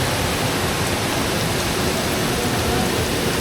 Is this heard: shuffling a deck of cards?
no